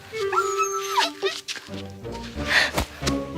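A dog whimpers and yips in a few short, high, wavering cries mixed with a thunk and other clattering sounds.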